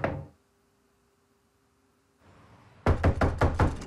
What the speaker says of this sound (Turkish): Aç kapıyı Ayşe.